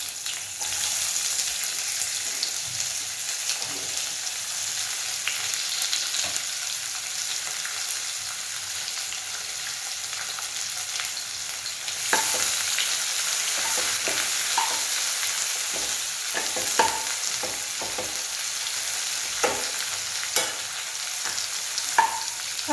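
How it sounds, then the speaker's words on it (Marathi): Vertically sliced onion fries in oil for tomato rice, a steady close sizzle running throughout with scattered scraping clicks as a spoon stirs it around the pan, no voices. "जो मी कांदा कापून घेतलेला आहे उभा कापलेला आहे तो टाकणार आहोत"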